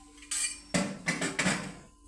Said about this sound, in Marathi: आता बघा दुसरी कढई ठेवली बघा.